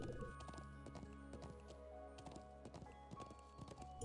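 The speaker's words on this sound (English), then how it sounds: "Hi-ho! Horse!" Horse hooves clip-clop at a steady trot in the video game Trails of Cold Steel 2, a rhythmic run of taps over a low game soundtrack drone.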